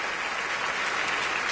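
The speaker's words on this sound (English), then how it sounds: "Big round of applause for yourselves for being here" Audience applause fills the room at a NASCAR Sprint Cup Series awards ceremony, a dense and even burst of clapping from a large crowd that holds steady for its whole short length.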